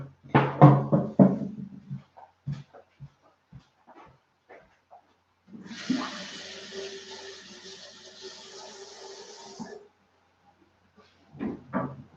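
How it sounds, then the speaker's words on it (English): Hands rinsed under a running tap, a steady splashing stream of water for about four seconds, close by, between sporadic clicks and sounds of a dog. "Rinse my hands off real quick."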